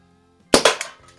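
A Crosman 44 Peacemaker air revolver, made around 1976–81, fired at a green can, with a sharp, close shot and a quick second crack as the pellet hits, followed by a brief decaying rattle.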